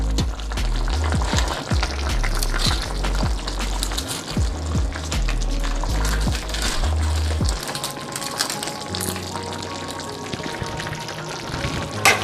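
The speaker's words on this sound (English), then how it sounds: "Now I'm gonna add the fish." Fish hits a hot pan for Jamaican brown stew fish, with thuds of pieces being laid in over a steady loud sizzle and crackle of frying oil that continues after the fish is placed.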